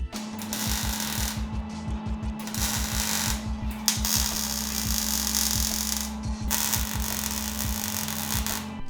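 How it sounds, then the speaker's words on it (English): MIG welder tack-welding a Fujitsubo exhaust pipe on a Toyota AE86, a close, steady buzzing crackle in several long bursts separated by short pauses, over a constant low hum. "So now I'm going to get the welder, I'm going to tack it right here, hold it tight"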